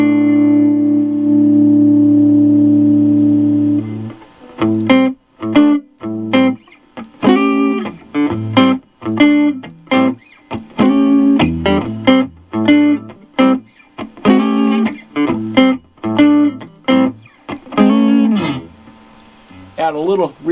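An electric guitar played through the rhythm channel of a Monoprice Stage Right 5W valve combo amp: a sustained chord rings out, then clipped, choppy strums repeat in a steady rhythm, loud and up close.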